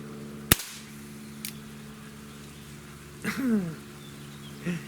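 A single sharp, loud crack from a Walther CP88 air pistol rings out early, then fades into a quiet room with a faint later rustle and a brief whine.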